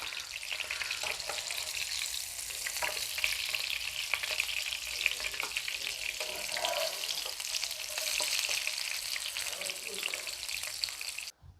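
Homemade chicken sausage fries in oil over a low flame, producing a continuous, even sizzle that stays close and steady, with a voice speaking faintly at times.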